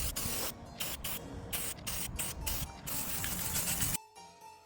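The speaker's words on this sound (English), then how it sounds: "Then I follow with a heavier coat of spray paint, allowing it to intentionally drip and run for texture." White semi-gloss Rust-Oleum spray paint hisses from the can onto a wire sculpture figure in a heavy coat, a run of close bursts with short gaps before the spraying stops.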